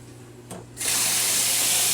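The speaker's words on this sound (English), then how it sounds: "Water's coming out" A household tap is turned on to draw water for a saltwater aquarium RO/DI system; after a brief click, a steady, close, hissing rush of running water starts and continues evenly.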